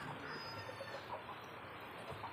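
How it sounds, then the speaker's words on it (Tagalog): Soft clucking from a group of backyard chickens, scattered short calls over steady rainy background noise, moderately distant. "Tingnan natin ang mga kamanukan, mga alagang manok."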